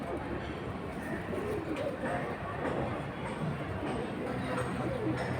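Pigeons coo softly against a continuous background of crowd murmur and chatter at a pigeon market.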